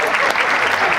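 Brief burst of loud, close audience applause at a live show, dense clapping throughout with no pause.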